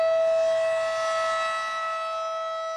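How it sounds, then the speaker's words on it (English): A steady, loud outdoor tornado warning siren, sounding a noon test in Sedgwick, Kansas, holds one sustained wailing tone, slowly fading slightly in volume, with no talking. "those tornado sirens testing at noon"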